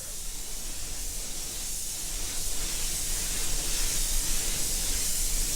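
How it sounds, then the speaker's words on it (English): A spray gun lays a transparent base coat over a custom paint job, giving a continuous close, even hiss with no breaks and no voices. "now I'm sealing everything in with a transparent base"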